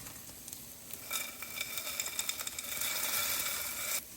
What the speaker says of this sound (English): Now that our soup has been simmering for 30 minutes, we have to add the potatoes and the noodles